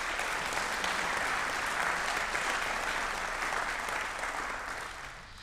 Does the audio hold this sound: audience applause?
yes